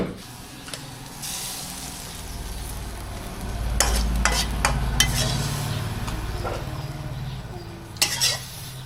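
Northern Thai larb dry-roasting in a pan, with a steady low sizzle and stirring scrapes, several sharp clinks of utensil against pan, and a louder stretch of sizzling midway.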